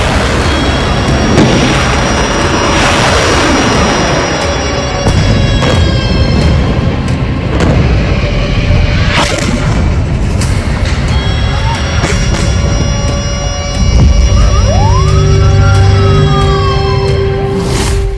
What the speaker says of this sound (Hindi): रॉकेट हमले।